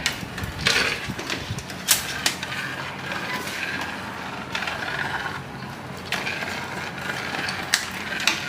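Electric cat toy from Taobao switched on and running, giving a continuous whirring, ratcheting mechanical sound with periodic clicks, close and fairly quiet, with no talking.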